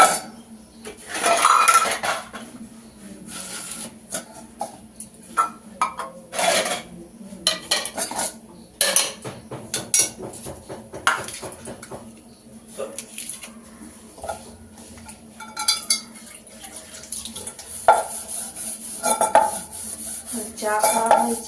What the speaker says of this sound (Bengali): দুটো বাসন আছে, ধুয়ে নিয়ে চলো